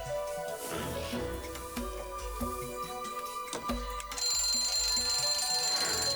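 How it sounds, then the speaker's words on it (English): An alarm clock in the film Matilda goes off with a bright, steady ringing tone that enters late and continues to the end, following clattering thumps and knocks of movement in a room. "As soon as she sees the alarm clock go, that alarm clock alone is like"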